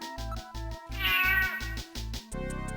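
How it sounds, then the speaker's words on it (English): Synthesized meowing cat sound effect from the video game Snatcher, a strained, wavering electronic meow over a pulsing game music loop with a steady rhythmic bass beat, no talking. "That cat also doesn't sound okay."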